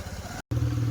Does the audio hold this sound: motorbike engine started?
yes